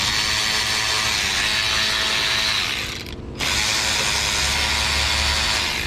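Rapid ratcheting clicks come from a tool working the valve cover bolts on a Toyota, steady and close, with a brief pause midway before the clicking resumes.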